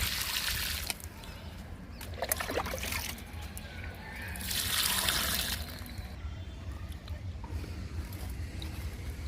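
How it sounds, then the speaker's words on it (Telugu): Water pours and splashes onto the soil of a potted lemon plant in two louder bursts over a steady background hiss, close by. "నిమ్మ మొక్కకి వాటర్ ఇస్తున్నాను"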